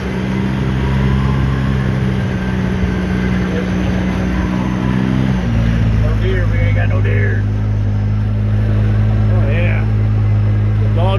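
A 2013 Polaris RZR 800s side-by-side drives in low gear, its engine a loud, steady, close drone with a shift in pitch partway through. Loose doors may rattle beneath the engine, and a voice briefly sounds over it.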